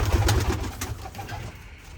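Soft, low cooing from pigeons close by, a few throaty rolling calls over quiet background.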